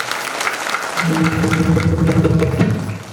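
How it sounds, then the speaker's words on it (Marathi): A crowd at a Shiv Naam Saptah kirtan gathering bursts into loud, sustained clapping for visiting devotees, building after the first second and holding steady to the end. "यांच्याकरता सुद्धा एकदा जोरदार टाळ्या वाजवा"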